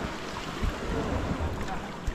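Strong sea waves slosh and churn around a small boat during a rescue at sea, a steady rough wash with wind buffeting the microphone and a few heavier thumps of water.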